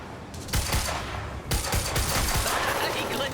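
Rapid gunfire in Quantum Break, dense bursts of shots from an assault rifle and pistols rattling continuously and loudly, with someone talking over the fire.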